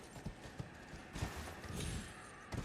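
Horse hooves clip-clop in Elden Ring, a steady run of soft, close hoof strikes over about two and a half seconds, with a slightly louder burst near the middle and another at the end.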